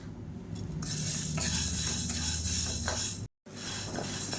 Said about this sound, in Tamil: இப்போ பாருங்கள், பச்சைப்பயிறு நல்லா வறுபட்டுருச்சு